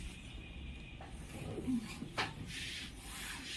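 Slim-fit pant fabric being marked with a straight line, giving a faint, dry rubbing scrape that runs across a few seconds with one sharper stroke near the middle, quiet and close.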